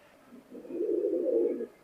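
A Teddy pigeon gives a single low, rounded coo lasting about a second, close and clear against a quiet background.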